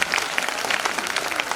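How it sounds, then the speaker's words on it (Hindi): Steady, dense clapping from an audience applauding the performers of a Rashmirathi recitation, moderately loud and sustained with no voices over it. "तो एक बार जोरदार ताली कलाकारों"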